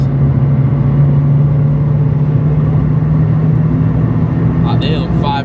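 Renault Clio Sport 182 engine running steadily with a strong low hum and no clear rise in revs, close and continuous, with a brief rattle near the end.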